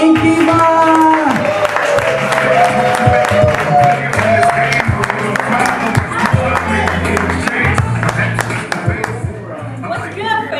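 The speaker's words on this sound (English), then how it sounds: "Give her a round of applause." Crowd at a poetry cafe applauding a spoken word artist, with clapping, cheers and whoops over music and talk; the clapping is fairly loud early on and fades toward the end.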